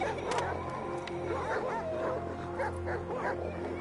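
A dog in the video game Valiant Hearts barks several times in quick yips and whimpers over faint game ambience, fairly close and clear.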